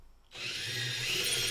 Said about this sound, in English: basically we're drilling in so the holes line up with the limbs